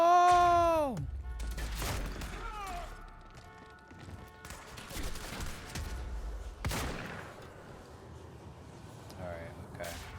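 Gunfire and impact crashes from the video game Quantum Break arrive in scattered sharp bursts over a bed of game ambience, with a falling synthetic tone at the start and voices around them.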